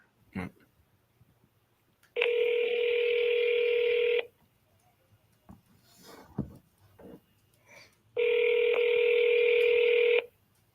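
Telephone dial tones from a calling app on a live call: two long, loud steady tone bursts of about two seconds each, separated by a quieter gap with faint clicks and brief noises.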